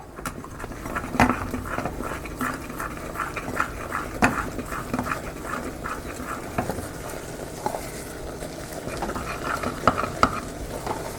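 Wheat flour dough being stirred in a pan on the stove, with repeated scraping and slapping strokes at a steady rhythm, close and moderately loud, plus a faint sizzle underneath.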